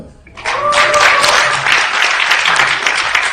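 An audience at a political forum bursts into applause after a brief quiet moment, then keeps up a loud, thick wall of clapping, with a voice briefly audible at the start.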